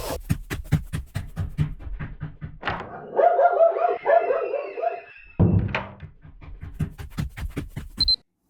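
A dog barks at someone at the door, giving a quick run of sharp, loud nearby barks, then a whimpering, whining stretch and a gap, then a second burst of barks to finish.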